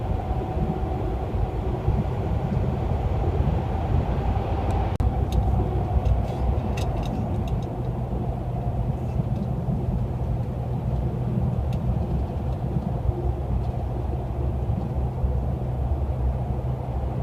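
A car drives through a road tunnel on a route between Italy, Switzerland and Germany, giving a steady, loud, enclosed rumble of engine and road noise with faint traffic hiss throughout.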